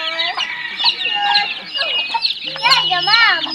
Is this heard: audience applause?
no